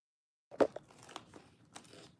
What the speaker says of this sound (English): Will you eat with me so I'm not the only one crunching?